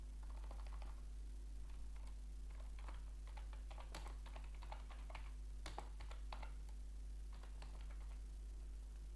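Someone types on a computer keyboard in irregular bursts of light, close clicks over a steady low hum, and nobody speaks.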